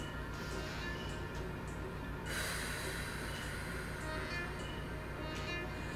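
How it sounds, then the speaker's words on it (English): Deep breathing during a stick-mobility stretching class, held in a lunge with the back foot dorsiflexed. One fairly close, audible breath rises partway through over a steady background hum. "Take a few big deep breaths."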